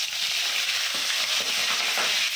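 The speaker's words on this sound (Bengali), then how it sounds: "এক এক করে মাছগুলো ভেজে নেবো" Pieces of katla fish frying in hot oil in a pan, a steady close sizzling hiss with faint stirring clinks, heard alone and evenly loud throughout.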